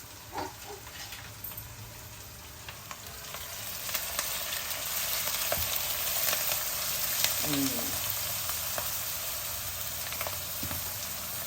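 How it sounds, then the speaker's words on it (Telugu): Onions sizzling and frying steadily in a pan of hot oil while drumstick leaves are being cooked, a continuous close crackle with occasional stirring scrapes and no talking. "కొద్దిగా ఉల్లిపాయలు వేగనిద్దాం"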